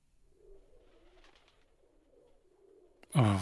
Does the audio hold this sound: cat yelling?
no